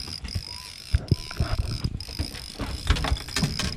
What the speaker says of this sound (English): Reel him, buddy. You gotta keep cranking.